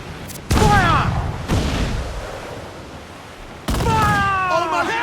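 Ship cannons boom in a naval battle in the video game Assassin's Creed IV Black Flag: three heavy blasts roughly a second or two apart, each with a long rumbling tail, the last followed by whistling debris, shouted voices between shots.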